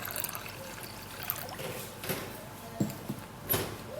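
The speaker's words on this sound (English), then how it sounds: "you're going to be putting in warm water in here" Warm water trickles and splashes softly into a basin for a foot soak, with a few faint clunks and small pours, quiet and close by.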